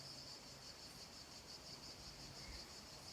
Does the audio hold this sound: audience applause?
no